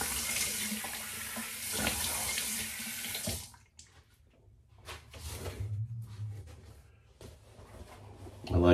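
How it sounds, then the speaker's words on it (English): Cool tap water runs into a bathroom sink while a face is rinsed after a cartridge-razor shave, a loud splashing stream for about three seconds that stops, followed by quieter handling sounds and dripping. "Next step, rinse off with cool water"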